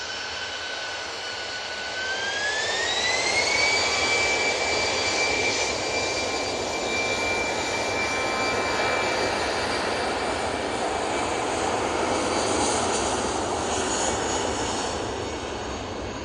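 Jet airliner departing Manchester Airport for Belfast, a steady roaring engine with a high whine that rises in pitch early on, then holds as a sustained, fairly loud rumble with no speech.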